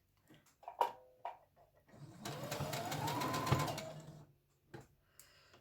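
A Brother CS3000i computerized sewing machine runs in one steady burst of about two seconds, a fast, even mechanical whir and stitch rattle heard close and alone, with scattered handling clicks before and after.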